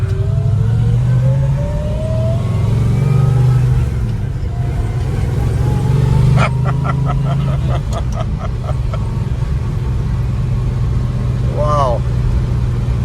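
A 1967 Chevelle SS 396 with a four-speed pulls loudly on the road, engine note climbing through the gears in a steady, rising drone that never lets up. Passengers talk over the engine throughout, and a few sharp clicks and a short chirp are heard near the end.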